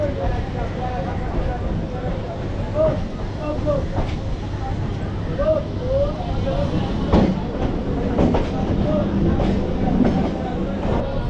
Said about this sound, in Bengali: একদম অন টাইমে কিন্তু আমাদের ট্রেন ছেড়ে দিল